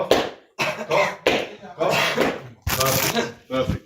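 Repeated short, forceful coughs from a person during a choking first aid demonstration, about six separate bursts with brief pauses between, close and loud, mixed with a little talk.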